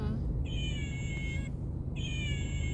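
A young child imitates a cat's meow, making two drawn-out, wavering mewing cries in a row, each held for about a second, heard close and clear over a steady low background rumble.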